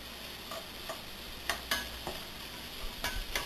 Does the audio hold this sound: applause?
no